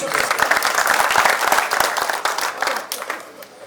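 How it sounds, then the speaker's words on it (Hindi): An audience at a Hindi poetry recital bursts into brisk, loud clapping, many hands at close range, which thins and tapers off over a few seconds. "एक बार तालियों से स्वागत बनता है"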